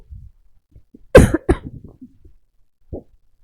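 A single sharp cough breaks out close up, followed by a smaller second cough and a faint throat sound trailing off in an otherwise quiet room.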